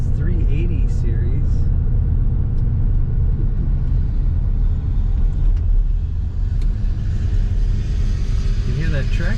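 A 1984 Mercedes-Benz 380SL convertible driving, its engine and exhaust giving a steady low rumble throughout, loud and close, with a little speech heard over it near the start and end.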